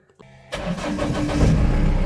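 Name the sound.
old car engine starting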